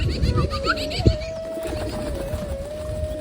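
Pigeons coo softly and close by in a short burst, with a steady high tone and light rustling behind them.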